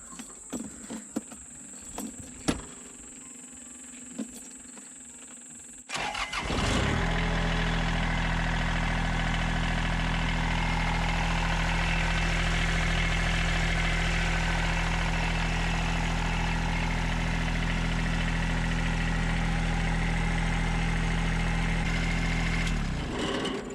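Quiet clicks and rattles, then a Kubota diesel engine, unstarted for three weeks, cranks and catches, settling into a loud, steady, low rumbling idle that runs for a long stretch before cutting off.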